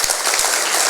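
Audience applause at a speech honoring veterans' organizations, a dense, steady wash of many hands clapping for about a second with no talk over it.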